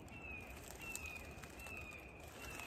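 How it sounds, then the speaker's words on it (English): Birds calling in the woods at Medoc Mountain State Park, a faint, repeated thin whistle-like call at an even pace over soft outdoor background noise. "Today you can hear these birds up behind me."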